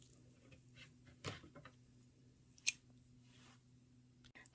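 Fabric or tailor's scissors snipping across the bundled ends of a macramé tassel, heard as two quiet, close cuts, a softer snip first and then a sharper clean one, with low room hum underneath.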